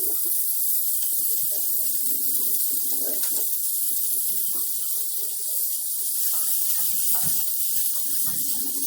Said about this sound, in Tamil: அது கொஞ்சம் பச்சை வாசனை போகிற வரைக்கும் கொஞ்சம் நல்லா வதக்கி விட்டுடலாம்.